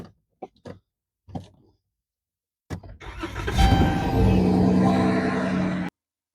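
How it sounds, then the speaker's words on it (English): A few short clunks and knocks come first, then the engine of the donor car in a jump-start cranks and catches, settling into a loud, steady idle close by before the sound stops sharply. "First thing we're going to do is start the donor vehicle."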